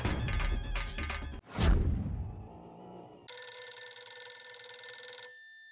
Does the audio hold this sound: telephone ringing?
yes